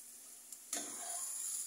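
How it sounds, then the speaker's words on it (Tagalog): Garlic sautéing in a pan, a faint steady sizzle with a sharp stirring scrape partway through, after which the hissing grows brighter and continues. "Haluin natin ulit hanggang sa mag-brown yung bawang"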